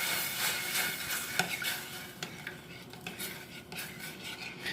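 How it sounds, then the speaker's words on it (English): A spoon scrapes and stirs through food in a pot as a meal cooks with sofrito and rice, soft irregular clinks and scrapes over a gentle sizzle, fairly close and quiet. "I'm going to give this a stir."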